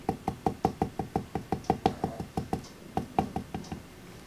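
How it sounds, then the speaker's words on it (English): A glue bottle tapped against a craft work surface while layering die cuts, some seventeen sharp, evenly spaced knocks close to the mic, with a short pause before a few final taps. "I always say tapping your glue is a good thing"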